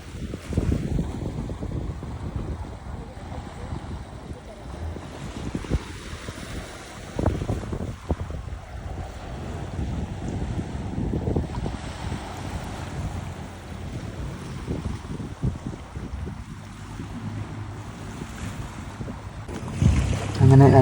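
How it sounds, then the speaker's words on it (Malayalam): A speed boat arrives across the sea in the Maldives, its faint motor mixed with wind buffeting and lapping water, with bumps and gusts throughout. "അങ്ങനെ രണ്ടാമത് ബോട്ട് എത്തി."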